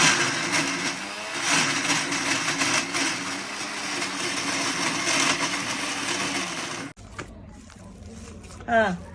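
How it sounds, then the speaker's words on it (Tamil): A kitchen mixer grinder whirs loudly and steadily as it grinds soya chunks (meal maker) with salt for a snack recipe. The motor runs for about seven seconds, then stops abruptly, leaving a quieter pause and a brief faint sound. "இப்போ இது சேர்த்து இது கூட அரைச்சிக்கோங்க மில் மேக்கரை"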